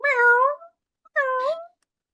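A woman imitates a cat, giving two drawn-out, rising-and-falling meows separated by a short pause, close and clear with nothing else behind them.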